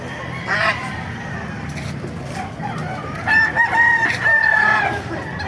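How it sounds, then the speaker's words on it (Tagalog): Roosters crow repeatedly with loud, stretched calls, nearby, amid a background of clucking fowl and other birds, at a chicken market in Baliuag, Bulacan. "Ganda ng mga manok."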